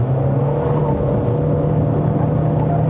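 A Chery Tiggo Cross 1.5 Turbo climbs a steep mountain road toward Genting in Malaysia, its engine holding a steady, loud drone with a low hum and constant road noise from inside the cabin.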